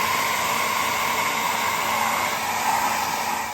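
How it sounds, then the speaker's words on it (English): A hotel hair dryer drying out shoes whirs continuously at a steady pitch, close and unbroken for the whole stretch. "I'm trying to dry them out with the hotel hair dryer"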